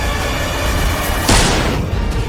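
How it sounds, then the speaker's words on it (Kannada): Single loud gunshot effect in a dramatized audio story, a sharp blast standing out against a steady bed of background music or ambience, with a brief decaying tail. "ಗನ್ ಫೈರ್ ಆದ ಸೌಂಡ್ ಅನ್ನ ಕೇಳಿ"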